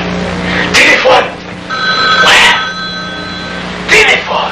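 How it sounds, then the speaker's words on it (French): A telephone bell rings in short repeated bursts while people talk loudly over and between the rings. "Téléphone. Téléphone."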